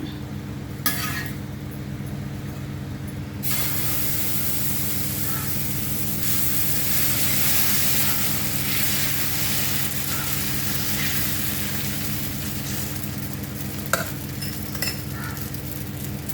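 An egg and vegetable uthappam with green chilli and coriander leaves sizzles in oil on a pan, a steady loud frying hiss that swells after a brief quieter start, with an occasional clink of a utensil.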